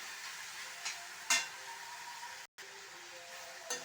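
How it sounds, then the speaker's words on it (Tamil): Banana flower sautés in a heavy pan over a slow flame, giving a soft, constant sizzle. A few sharp stirring scrapes break through the hiss, with a brief dropout midway and no talk. "நான் பாருங்கள் ஸ்லோ ஃப்ளேமில் தான் வதக்குறேன்."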